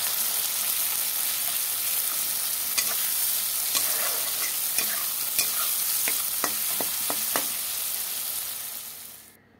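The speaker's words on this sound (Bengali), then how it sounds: "এখন পেঁয়াজগুলো ভেজে নেব।" Onions sizzle in hot oil with a constant, close frying hiss, broken by occasional taps and scrapes of a spatula stirring the pan.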